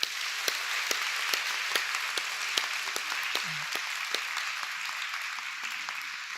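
A church congregation applauds the worship team, a steady hiss of many hands clapping at a moderate distance, even and continuous with a few sharper claps standing out.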